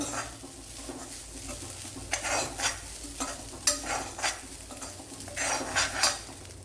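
Grated coconut roasting in a pan for a kumbalanga theeyal masala, with a soft continuous sizzle and repeated scraping and stirring strokes of a spoon against the pan, close and steady without voices.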